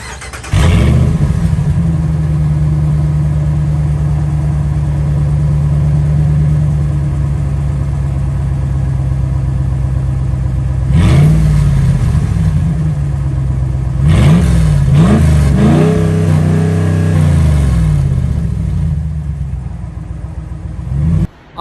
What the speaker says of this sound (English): I have exhaust cutouts. I'll show you what that sounds like.